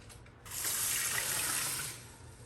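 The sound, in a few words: pouring beef broth onto rice for solar cooking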